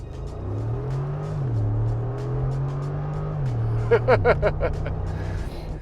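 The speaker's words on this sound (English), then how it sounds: "it has side pipes. That means the exhaust comes out the side of the car" A deep V8 engine burbles and rises through gear changes, its exhaust note swelling nearby through side pipes, with brief voice sounds in the mix.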